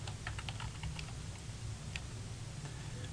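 Quick, uneven bursts of keystrokes on a computer keyboard tap out a formula, close and fairly faint, with short pauses between clusters and no talking.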